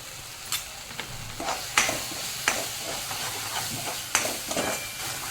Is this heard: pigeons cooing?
no